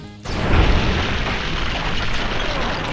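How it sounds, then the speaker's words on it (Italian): A railgun fires in modded Fallout New Vegas, a sharp loud blast with a low boom that rolls into a long crackling, rumbling tail lasting several seconds. "Railgun."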